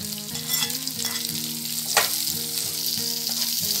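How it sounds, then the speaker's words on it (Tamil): Sliced onion and garlic with fennel seeds sautéing in hot oil in a pan for a Tamil tomato curry, a steady close sizzle and crackle with a spoon scraping through as it is stirred, no voices. "இப்போ இது நல்லா ஒரு 2 நிமிஷம் நல்லா வதக்குங்க"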